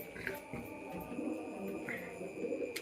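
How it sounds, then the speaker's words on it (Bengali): Pigeons coo softly and repeatedly at a distance over a low, steady background hum, with a few faint chirps, on a pigeon farm. "অনেক সুন্দর সুইট কবুতরগুলো"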